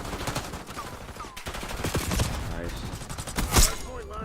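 Gunshots ring out in Black Ops 6 ranked Hardpoint on the Rewind map, with scattered sharp shots and clattering battle noise throughout and one especially loud crack near the end.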